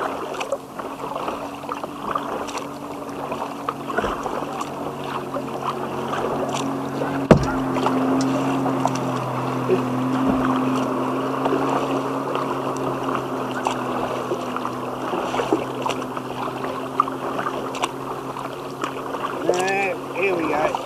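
A kayak glides across open water with soft paddle splashes and gentle lapping at moderate distance, under a steady wind wash, with faint voices speaking now and then.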